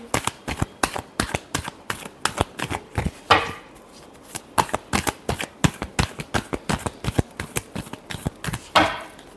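Tarot cards are shuffled by hand in quick, crisp bursts of riffling snaps, close and dry, repeating in an irregular rhythm with brief pauses throughout.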